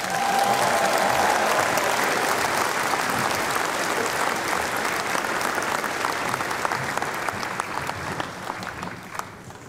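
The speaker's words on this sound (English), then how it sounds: "could we give it up a round of applause for our Master of Ceremony" An audience at a June 2022 MIT graduation ceremony gives sustained, loud applause, a thick roar of many clapping hands that holds steady for nearly ten seconds before thinning slightly at the end.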